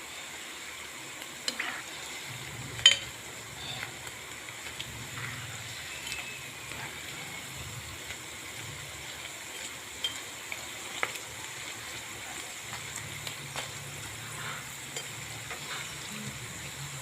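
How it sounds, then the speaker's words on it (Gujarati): Onion rings deep frying in hot oil, a steady soft crackling sizzle that runs throughout with a few sharper pops and bubbles, fairly quiet and close, with no voices. "બહુ સરસ મજાની તરાઈ રહી છે."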